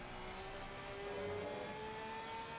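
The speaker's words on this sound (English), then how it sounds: "let's go on board with Porsche and check out the volume difference here. It is a glorious sound." Porsche GT3 race car in the sim racing game Assetto Corsa Competizione, heard onboard: a steady, loud engine drone holding a near-constant pitch for a few seconds, with no talk over it.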